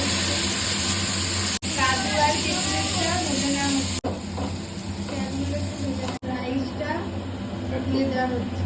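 Carrots, beans and capsicum frying in a pan for restaurant-style fried rice and chilli chicken, a steady close hiss and sizzle running throughout, with a voice talking over it.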